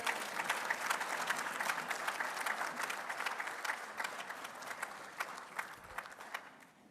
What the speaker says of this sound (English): Wow, another round of applause, please.